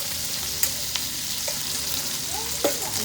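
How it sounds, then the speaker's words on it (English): Onions and other vegetables sautéing in butter for succotash, a steady bright sizzle with a few sharp clicks and stirring scrapes, close and continuous with no talking. "Just sauteing these onions, and I'm gonna pop in the rest of these veggies."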